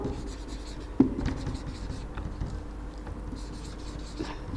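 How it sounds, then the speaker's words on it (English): Quiet scratching of writing on a board during an English lesson, faint and soft, with a small tap at the start and low room noise throughout. "Like if I write over here"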